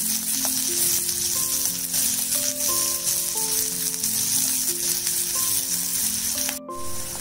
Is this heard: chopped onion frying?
yes